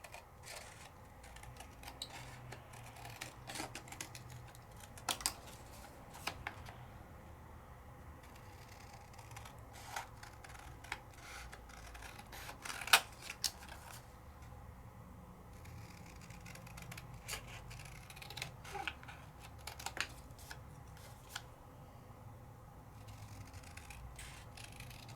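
Scissors trim out a paper topper in a quiet room, giving faint, scattered snips and paper rustles with soft clicks spread through the stretch.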